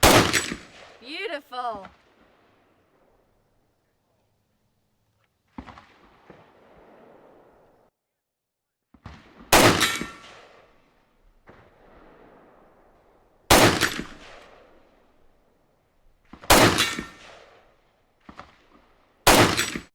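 Beretta ARX100 rifle shots fired through a 3x optic at a steel popper 100 yards away: loud single cracks spaced several seconds apart, some followed by a faint distant ping of the steel, with a brief spoken comment.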